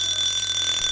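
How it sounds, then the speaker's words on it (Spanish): A steady, high electronic alarm tone rings continuously from within a song, a constant buzzing beep with no voices present. "a escuchar esta alarma que suena a lo lejos, pero cada vez suena más cerca"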